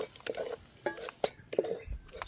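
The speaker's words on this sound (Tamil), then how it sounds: "தேங்காய் பூ வந்து கைவிடாமல் கிளறிக்கொண்டே இருக்கணும்" Grated coconut being stirred while it roasts in a pan for a sweet, giving soft scraping strokes at an irregular rhythm, close and fairly quiet with brief louder scrapes.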